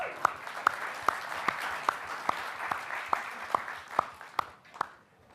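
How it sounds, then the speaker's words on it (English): Audience at an augmented reality tech talk applauding a volunteer called on stage, a soft wash of clapping with a few sharp, evenly spaced claps standing out over several seconds. "Give a round of applause."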